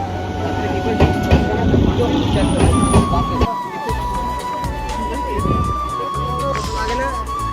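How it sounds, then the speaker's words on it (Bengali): A train pulls into a station, with heavy rumbling, rattling carriages and a long, sustained high squeal of brakes, while voices talk nearby and over the noise. "এদিকে ট্রেনও ঢুকে গেছে"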